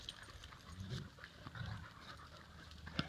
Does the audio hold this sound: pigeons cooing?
no